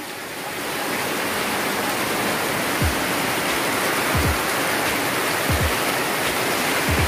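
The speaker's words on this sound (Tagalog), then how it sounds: "Grabe yung ulan guys oh!" Heavy rain pours down during a flood, a loud, unbroken wash of hiss that fills the scene, with a few dull low thumps scattered through the second half.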